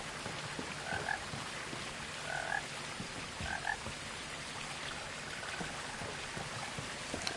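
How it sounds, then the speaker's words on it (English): A frog croaks in the video game What Remains of Edith Finch, giving three short, faint, evenly spaced croaks over a soft, steady outdoor background. "I hear a frog."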